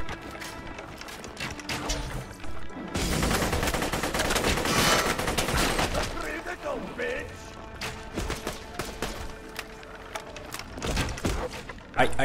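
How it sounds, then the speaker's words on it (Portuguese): Gunfire in Tiny Tina's Wonderlands: busy bursts of shots and impacts run through the clip, loudest in the middle, with a sharp hit at the very end. "Quem é que tá atirando essa porra em mim?"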